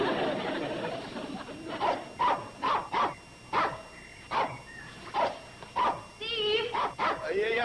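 A dog barks in a series of about ten sharp, evenly spaced yaps indoors in a vintage television sitcom scene, moderately close, followed by a higher yip at the end.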